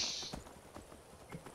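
Horse hooves clip-clopping in the video game Skyrim, a few soft uneven hoofbeats, faint and brief, with no talking.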